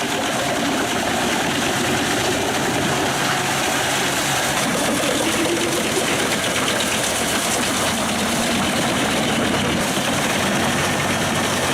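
A John Deere 540 G3 forestry skidder engine runs steadily at a logging site, a loud continuous rumble with broadband machine noise and vibration throughout, no voices.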